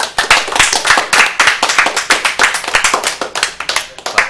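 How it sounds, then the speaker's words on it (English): An audience clapping at a live speedrun event, a dense burst of many hands applauding in quick irregular beats, loud and close, steady for several seconds. "Clap, clap."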